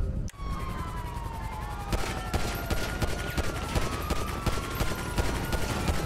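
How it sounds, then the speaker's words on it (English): Rapid bursts of gunfire aimed at a car's tires in GTA V, with a police siren wailing throughout, the shots sharp and repeated over a steady roar of engine and street noise. "I'll shoot his tires out just in case."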